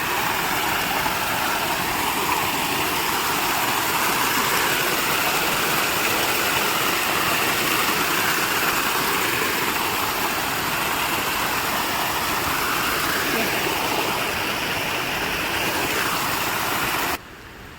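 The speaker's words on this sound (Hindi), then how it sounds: "झरने ही झरने बह रहे हैं आजकल।" A hillside waterfall pours down from a peak near a village, a steady, loud, unbroken rush of water that continues evenly throughout.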